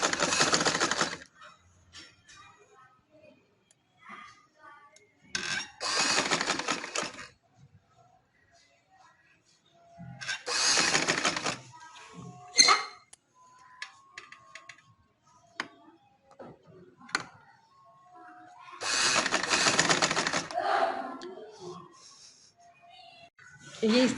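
A sewing machine stitches trouser fabric panels in loud bursts of rapid mechanical ticking, separated by quiet pauses and small handling clicks.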